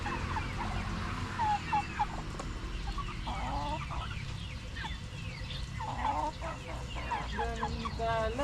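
Chickens in a backyard pen cluck and squawk in a busy, overlapping chorus with repeated short calls throughout. The birds sound close against a steady low background rumble.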